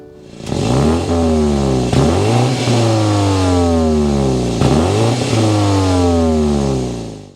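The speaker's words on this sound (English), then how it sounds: "start up this twin power turbo so you can hear that exhaust note" A 2024 BMW X4 xDrive30i twin power turbo engine revs loudly up and down through its exhaust in several rising-and-falling sweeps, close by with no talk.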